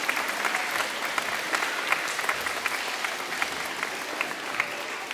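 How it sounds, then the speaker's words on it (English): Students at the Oodenawi Public School opening ceremony applaud together, a fairly even crowd clapping with a few sharper individual claps standing out, and no talking. "I will give you an opportunity to give yourselves a round of applause"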